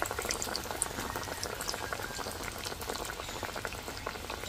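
Chicken cutlets sizzle in hot oil in a wok, a dense, steady crackling hiss with scattered sharp pops running throughout, close and fairly loud with no talking.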